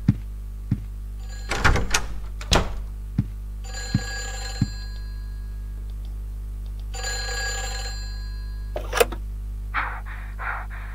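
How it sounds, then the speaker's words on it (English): A telephone rings inside the video game Silent Hill 4: The Room, in two long electronic bursts against a steady low hum, with scattered thumps and clicks around them. "The phone's ringing again."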